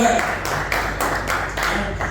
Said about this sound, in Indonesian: Mari kita berikan tepuk tangan sekali lagi saudara-saudari bagi Tuhan